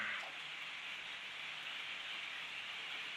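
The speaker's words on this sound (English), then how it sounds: "Probably hear it started raining outside again." Steady, soft hiss of rain falling outdoors, an even wash of sound with no talking.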